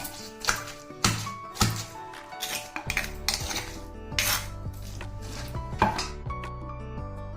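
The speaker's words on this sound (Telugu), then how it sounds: "కొంచెం కొంచెం వేసుకొని తొక్కోండి" Tamarind pods are pounded in a small stone mortar, a few at a time, with a run of sharp, close knocks at an uneven beat and hard stone ringing after each strike.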